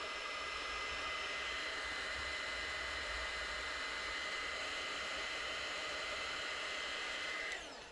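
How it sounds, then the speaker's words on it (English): A heat gun blows hot air onto a broken Dyson V8–V15 direct drive connector joint, making a steady, close, hissing roar like a hair dryer that runs evenly for about eight seconds before tapering off. "Get your heat gun to heat up the connector joint."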